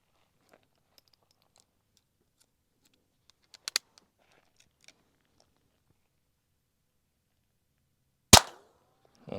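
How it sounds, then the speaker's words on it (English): Russian TOZ-35M .22 target pistol firing match-grade ammunition: one sharp, loud crack with a short echo near the end, preceded by faint clicks and handling noises in an otherwise quiet range. "We're shooting some match grade LE22 ammo."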